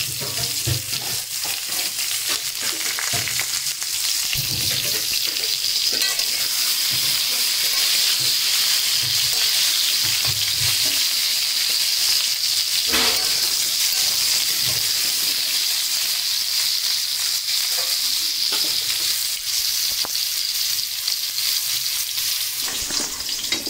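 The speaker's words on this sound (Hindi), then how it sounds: "यहाँ पे आलू फ्राई हो रहे हैं" Potatoes frying in oil in a pan while a Bengali-style chicken dish is prepared, giving a steady close sizzle and hiss throughout with faint stirring sounds.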